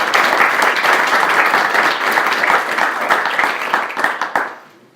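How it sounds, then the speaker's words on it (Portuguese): An audience at a right-wing political gathering gives a round of applause for a guest named Robson, loud and close, with many hands clapping densely before it tapers off at the end. "Uma salva de palmas para o nosso amigo Robson."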